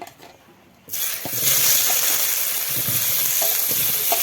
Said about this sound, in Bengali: তেলের মধ্যে এখন আলুগুলো একটু ভেজে নেব